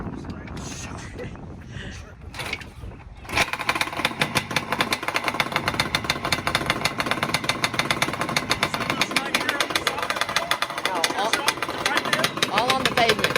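A Yamaha Banshee drag quad's two-stroke engine runs with a loud, rattling, buzzy drone that starts abruptly after a quieter stretch with talk at the beginning.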